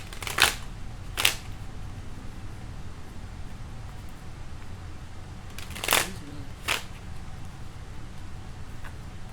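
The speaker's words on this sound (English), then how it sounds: "we're going to pull some oracle cards" Oracle cards being shuffled by hand in a few short riffling bursts, two early and two later, close and fairly crisp over a steady low background hiss.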